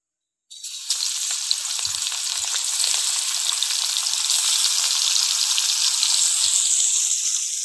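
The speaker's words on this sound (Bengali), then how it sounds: "আমি লবণ হলুদ দিয়ে মাছটাকে ভেজে নেব।" Katla fish pieces coated with salt and turmeric fry in hot oil, a loud, steady sizzle that starts abruptly and crackles continuously with occasional faint clinks, no voices.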